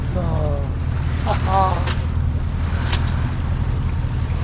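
A sailboat motoring under engine in light wind off the Balearic Islands, with a steady low engine drone beneath wind and water noise and brief bursts of nearby voices.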